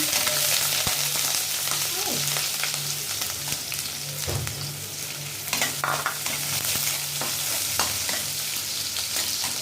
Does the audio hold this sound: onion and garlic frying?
yes